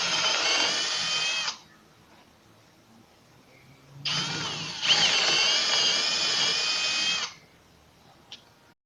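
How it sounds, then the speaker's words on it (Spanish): A power drill with a wider bit enlarges a hole in wood for a countersunk screw while building a modern wood and melamine table: two close, loud whining bursts, the second longer, separated by a quiet pause. "Ahora con la broca más ancha ampliaremos el espacio para que quede nuestro tornillo empotrado."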